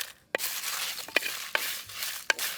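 Coriander seeds, dried red chillies and whole spices dry-roasting in a pan: four sharp scrapes of a spoon stirring them sit over a soft, steady rustle of toasting.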